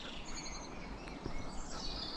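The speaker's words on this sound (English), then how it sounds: "it's lovely just to hear the birds tweeting away" Birds tweeting faintly in the trees in the distance over a steady outdoor background hiss, with thin chirps scattered throughout.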